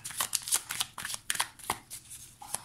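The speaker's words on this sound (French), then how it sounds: "Donc avec le Morgan Gris, on va prendre une carte." Cards from a Morgan Greer tarot deck riffle and slap in a series of close, crisp flicks and shuffling bursts, uneven in rhythm, with no voice over them.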